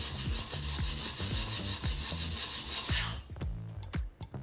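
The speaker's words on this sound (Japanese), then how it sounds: "この 刃元から切っ先まで まんべんなく全体的に研ぐようにしてあげて" A single-beveled kitchen knife is rubbed back and forth on a whetstone in a steady rhythm of gritty, rasping strokes, close and clear, with no talking.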